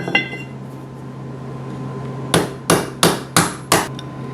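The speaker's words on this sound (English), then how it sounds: "Hammer." Five sharp metallic hammer strikes ring out close by on a wheel bearing of a 1998 Arctic Cat 500 4x4 ATV, evenly spaced after a stretch of steady background hum.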